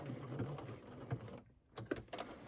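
A sewing machine bar tacks a buttonhole, its needle chattering in quick bursts that stop briefly midway before picking up again with a few louder clicks, heard close and without talk.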